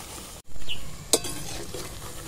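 Papaya pakoras fry in hot oil with a steady sizzle, broken by a brief pause and a sharp utensil clack as the fritters are turned, no voices.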